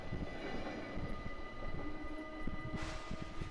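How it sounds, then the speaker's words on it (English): A passenger train rumbling along the tracks near Hilversum station, steady and fairly close, with rolling clatter and a brief brighter hiss near the end. "a passenger train derailed just outside Hilversum station"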